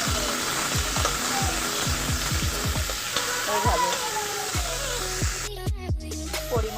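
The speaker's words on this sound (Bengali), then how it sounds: "তেল গরম হয়ে গেলে করলা আলুগুলোকে কড়াইয়ের মধ্যে দিয়ে নিতে হবে একদম নাড়া করে নিতে হবে" Bitter gourd and potato pieces frying in hot oil in a wok, a steady close sizzle punctuated by repeated sharp scraping and clanking knocks from a spatula as the vegetables are stirred.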